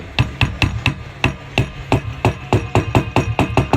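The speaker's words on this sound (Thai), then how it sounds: "ตอนนี้เราก็ทำการอุดไม้เข้าไป" A hammer taps a wooden plug into an old screw hole on a guitar during repair, a steady run of about fifteen sharp, close knocks at an even rhythm, with no talking.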